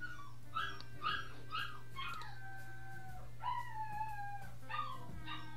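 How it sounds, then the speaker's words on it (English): A new female puppy shut in a kennel whimpers and howls in a series of rising, wavering cries, some short and some drawn out, over a steady low hum indoors. "That's our new puppy."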